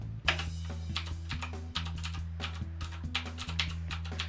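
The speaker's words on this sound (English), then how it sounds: "I just want you guys to listen real fast on the sound of the keys." Rapid, close typing on a Razer BlackWidow mechanical keyboard, a dense run of sharp clacky keystrokes with an even rhythm and a few heavier strikes, alone with no talk.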